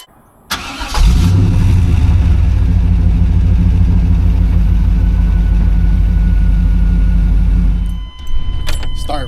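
A 1996 Chevy StarCraft van's V8 cranks briefly and catches, then settles into a loud, steady rumbling idle close by, the engine cutting off near the end.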